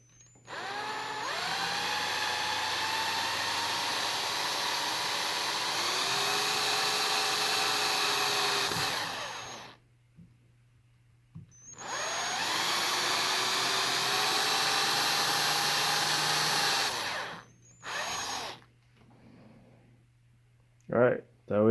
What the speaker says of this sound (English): as you can see, I have my holes all drilled out